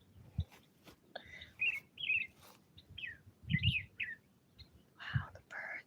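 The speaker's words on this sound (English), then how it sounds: "Wow, the birds, just listening to the birds." Birds chirp outdoors in short, bright bursts scattered over several seconds, moderately close, mixed with soft whispery breath and low rustling sounds.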